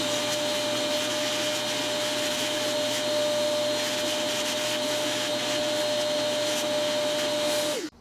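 A Shop-Vac vacuum cleaner runs steadily and loudly while cleaning up a CNC machine in a woodworking shop, its constant whine and rushing airflow broken by brief rattles of debris, then cut off abruptly at the end.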